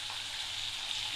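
Sliced onions fry in hot oil in a pan, giving off a constant, even hiss and sizzle at close range with no pauses, alone and with no one speaking.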